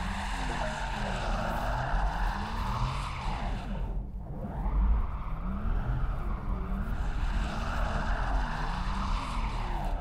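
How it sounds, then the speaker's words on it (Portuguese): Synthesized driving sound of a Porsche Taycan 4S electric car on ice, a steady airy whir with a dip and swell midway, continuous and fairly close, with no voices. "Este é o barulho sintetizado do Porsche Taycan"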